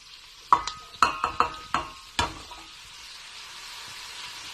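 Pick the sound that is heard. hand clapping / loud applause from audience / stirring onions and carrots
stirring onions and carrots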